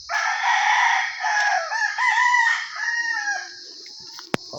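Chickens at a small backyard coop, with a rooster's drawn-out crow and overlapping clucks close by, ending with a sharp click.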